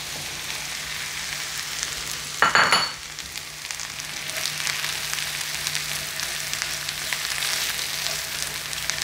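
Mushrooms sizzle steadily in a hot pan, with a brief clatter of stirring partway through and no talking.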